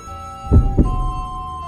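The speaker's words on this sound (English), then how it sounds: "I can feel my heart pounding loudly." Heartbeat sound effect from the Spirit Hunter: Death Mark II visual novel game: a single double thump, lub-dub, low and heavy over a steady musical drone, alone with no voices.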